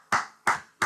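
A few sharp hand claps ring out close by during a work meeting, three quick evenly spaced smacks with brief decays, no voices over them.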